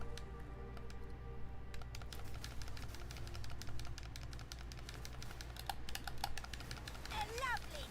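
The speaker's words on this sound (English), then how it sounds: "I'm gonna have to get on my keyboard and mouse soon to craft." Rapid clicking of a computer keyboard during a Path of Exile 2 game stream, fairly faint and continuous, with steady background hum.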